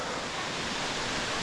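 Steady roaring wash of falling water at the Adcock Gorge waterfall, a dense continuous rush heard close with no voices over it.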